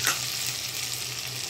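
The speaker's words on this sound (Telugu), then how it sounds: "వేసేసుకొని ఒకసారి ఫ్రై అయ్యించేద్దాం." Masala powders, ginger garlic paste and garam masala fry in a pan with a steady, close sizzle and a brief stirring scrape at the start, no speech.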